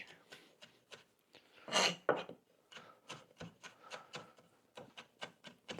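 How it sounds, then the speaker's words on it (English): Knife finely chopping garlic on a board for mushroom risotto, a steady run of quick close taps with a few louder strokes, no talking. "For this I prefer to have my garlic just a bit more finer."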